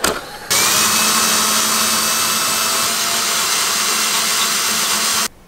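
Electric power drill whirring steadily at close range for about five seconds as electrical work is done, a loud, even high-pitched motor whine that starts and stops abruptly, with no voices over it.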